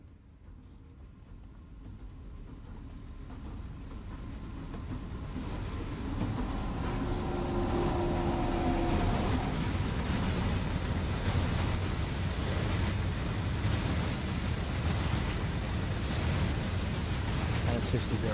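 A freight train approaching in Train Sim World on the Ruhr-Sieg Nord line: a broad rumbling roar swelling from a distance and growing steadily louder, then holding as a dense, continuous mechanical wash.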